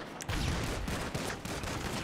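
A minigun fires in a video game, a loud, dense, continuous mechanical rattle held for the whole two seconds with no talking.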